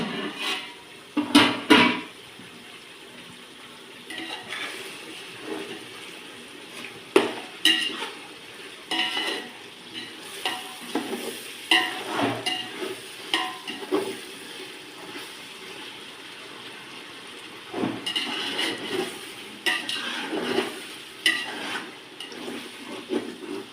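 Chicken curry for a home-style chicken biryani being stirred in a pot, with repeated scraping and clanking of a ladle against metal over a soft simmering sizzle, bursts of stirring separated by quieter pauses.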